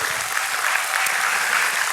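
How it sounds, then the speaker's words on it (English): Church congregation applauding the worship team after a worship set, producing steady, dense, loud clapping throughout the brief moment with no pause. "I want to give our worship team, Pastor Cece, a huge round of applause."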